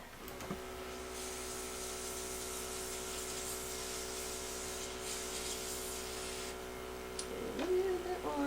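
A steady, faint hiss of an airbrush foundation machine spraying water through, running continuously for several seconds over a low mechanical hum, ending with a small clatter.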